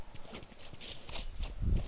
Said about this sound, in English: Oh, do you hear the footsteps?